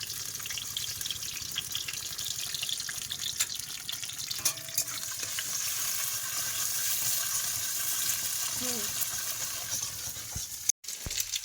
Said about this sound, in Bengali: এবার ডিমের সাথে আবার করে ভাজবো, ভালো করে কষাই দেবো